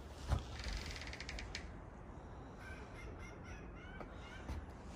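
Crows caw in a short run of harsh, repeated calls early on, then a few more calls later, heard faintly and at a distance outside a forest cottage near Big Bear Lake, California, over quiet outdoor ambience.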